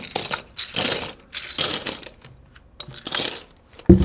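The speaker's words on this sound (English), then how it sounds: "For now, we're just gonna put all these keycaps back in the box." Plastic keycaps from a KC84 keyboard are dropped back into a box, making several short bursts of light rattling clatter with quiet pauses between, then a sharper knock at the end.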